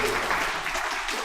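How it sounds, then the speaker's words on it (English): A crowd claps steadily and continuously, a dense wash of applause that holds at an even level from start to finish. "Big applause to our"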